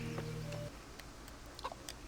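A chicken clucks in the video game Kingdom Come Deliverance, with a low sustained tone at first and then a few short, scattered clucks at moderate volume, no talking.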